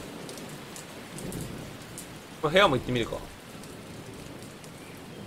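Steady rain falls in the Ao Oni 2 video game, a soft continuous hiss running under a man's brief spoken remark.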